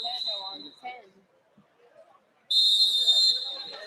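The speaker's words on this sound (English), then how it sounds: "And the whistle blows end of the first period" A referee's whistle at a high school wrestling tournament in a gym sounds a sharp, sustained shrill blast near the end of the clip, following a stretch of background talk and crowd murmur.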